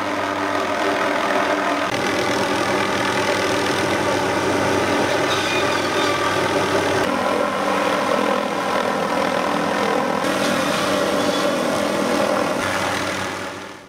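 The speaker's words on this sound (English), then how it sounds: "The tree saw hangs below the helicopter from an aluminum tube" An MD 500 helicopter's loud, steady engine and rotor roar continues throughout, with the whining gas motor of a tree saw hanging below it running constantly beneath.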